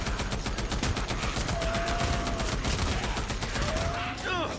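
Sustained gunfire from Days Gone, a rapid volley of shots crackling densely for several seconds with a short whistling sweep near the end, loud and close.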